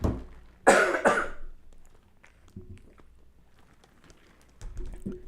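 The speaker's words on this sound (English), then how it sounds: "I apologize for the nasty ASMR coughing, drinking water sounds" A man coughs and clears his throat sharply, then comes a quieter stretch of sipping and swallowing water, close to the microphone, with no speech.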